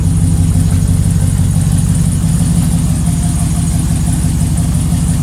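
A Chevrolet Trailblazer with a freshly rebuilt 6.0 V8 engine runs steadily at idle, a loud, close, even low rumble with a faint high whine and no voices over it.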